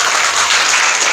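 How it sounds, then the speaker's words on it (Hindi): Audience applause at a Srimad Bhagwat Katha religious discourse in Aligaon, Delhi: dense, loud, continuous clapping from a crowd, steady throughout with no speech over it. "जोर से ताली बजाओ"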